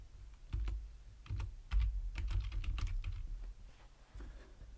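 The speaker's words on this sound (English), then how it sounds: "Now we can go to text, click on add a heading" Keys clatter on a computer keyboard in irregular bursts of close, crisp taps, some quick runs and some pauses, with no voices over them.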